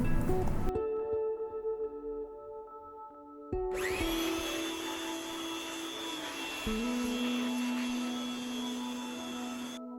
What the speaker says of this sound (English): the engine bay should be cleaned using a air blower